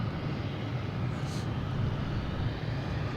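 American Airlines jet arriving from DC at Boston Logan, heard as a steady distant engine roar and rumble holding through the whole stretch, with no voices over it.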